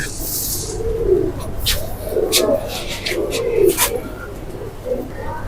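Several golden pigeons coo repeatedly, close by and fairly loud, with soft rustling and flutter sounds between the calls.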